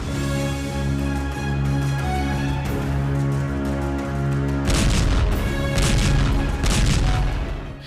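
Explosions from a Hezbollah rocket attack near Tel Aviv, a steady low rumble that breaks after a few seconds into a run of loud, crashing blasts.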